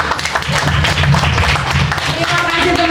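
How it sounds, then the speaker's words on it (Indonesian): A crowd claps and cheers for the first-place winner at the final of a trio performance contest, a dense, steady wash of applause running throughout. "Sekali lagi tepuk tangan buat Denny Awe"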